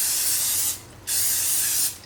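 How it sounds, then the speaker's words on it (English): Two short bursts of vegetable oil cooking spray onto a surface, each a sharp hissing spray separated by a brief pause, close and clear with no talking. "I sprayed this with my vegetable spray"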